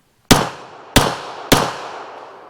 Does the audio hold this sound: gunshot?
yes